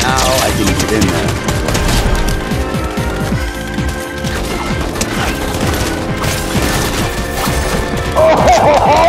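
Rapid gunfire bursts and crashing impacts from a Fortnite Chapter 5 match, dense and loud throughout, with a player's voice talking over the shooting.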